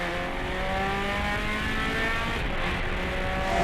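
A rally car powers hard out of a corner on a forest stage of the Australian Rally Championship at Quit Forest, its engine note loud, close and sustained as it accelerates, with no voices.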